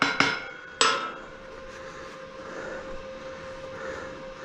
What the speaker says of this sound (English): we're chipping the top of our weld.